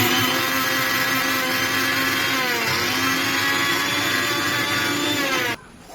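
A mixer grinder whirs loudly and steadily while blending a maida flour mixture, a close, constant motor whine that cuts off abruptly near the end.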